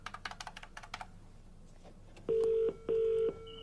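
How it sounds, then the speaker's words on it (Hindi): A phone number is punched in: a quick run of short keypad clicks followed by two steady DTMF tones, each about half a second long and clear against a quiet background. "फोन मिलाओ।"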